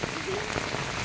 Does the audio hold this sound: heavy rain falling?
yes